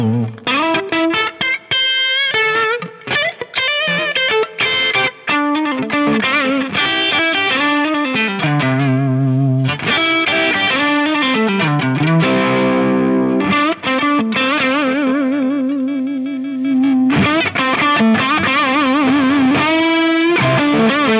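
Electric guitar on the neck pickup, volume rolled down, played through an Axe-Fx III Marshall amp model: a continuous stretch of driven, slightly distorted lead lines and chords with sustained notes, close and loud with no talking.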